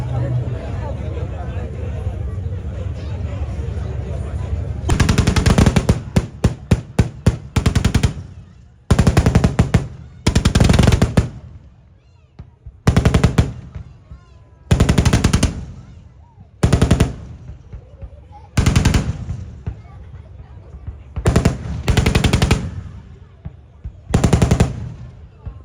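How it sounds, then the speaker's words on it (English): An Indian Army platoon fires 30mm cannons together in a demonstration, in loud repeated bursts of rapid heavy shots separated by short pauses, near and dominant, with distant crowd noise and engines between bursts. "are now ready to execute a platoon collective shoot by 30mm cannon"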